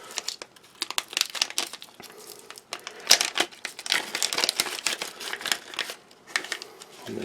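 A resealable plastic gum pack from a German ration is opened and handled, giving a close, irregular run of crinkles and rustles with no speech.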